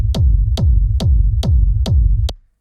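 A raw techno bass drum grouped with its transient and pushed through a saturator, with six heavy, distorted kicks at a steady tempo, each with a sharp click on top and a booming low tail, then a clean stop.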